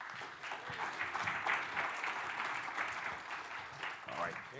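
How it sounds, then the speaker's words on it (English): Conference keynote audience gives a long round of applause to welcome a speaker, a continuous, fairly distant wash of clapping that holds steady across the whole stretch. "give him a giant round of applause"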